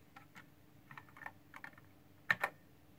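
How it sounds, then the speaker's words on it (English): A few isolated keystrokes on a computer keyboard click softly in a quiet room, ending with two sharper, louder key presses close together near the end. "if I type the letter B"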